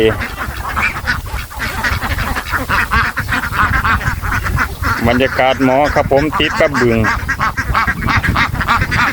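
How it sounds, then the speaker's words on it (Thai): A crowd of egg-laying ducks quacks loudly and continuously nearby, busy overlapping calls, while someone talks over them. "นี่คือเป็ดพันไข่"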